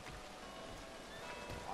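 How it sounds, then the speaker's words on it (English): Steady soft rain hiss in the video game Red Dead Redemption 2, a continuous wash of falling drops with no breaks, fairly quiet throughout. "It's literally been raining for the whole game today since I started playing."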